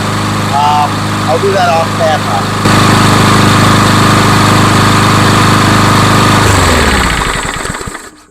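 A lawn mower engine idles steadily while warming up before an oil change, a loud continuous drone that holds through most of the stretch and fades near the end, with someone talking briefly over it at the start.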